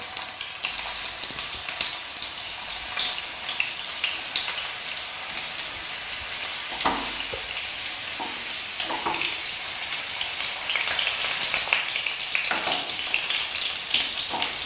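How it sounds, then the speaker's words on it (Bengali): Pointed gourd pieces frying in hot white oil in a frying pan make a steady, dense sizzle with crackling pops throughout, close and continuous. "তেল গরম হয়ে গেছে, তেলের মধ্যে পটলগুলোকে দিয়ে ভেজে নেব।"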